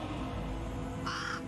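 A crow caws in the fantasy role-playing video game The Waylanders, a single harsh call near the end over steady game background ambience.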